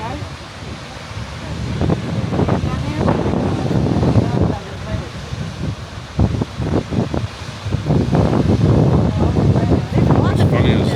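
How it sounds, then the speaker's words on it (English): Strong wind gusts across a waterfall overlook at Fall Creek Falls, Tennessee, a loud, steady rumbling roar with microphone buffeting, surging and easing over several seconds while someone speaks. "The wind is whipping the beard everywhere."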